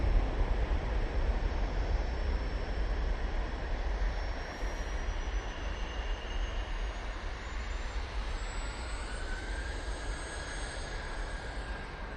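A passenger airplane departing Manchester Airport for Palma roars as a steady, broad jet rumble with a faint rising whine, heard from a distance and unbroken for the whole stretch, with no talk.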